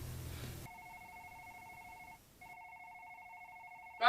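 Telephone ringing in two electronic trill bursts separated by a short gap, steady and fairly clear, with a brief noisy burst at the very end.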